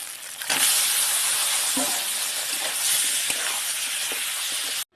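Fish hits a pan of spices already fried down with spoonfuls of stock, setting off a loud, steady frying hiss that starts abruptly and holds for several seconds before cutting off.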